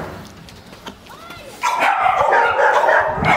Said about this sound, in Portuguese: Esses latem muito, muito, muito, que aí faz o barulho.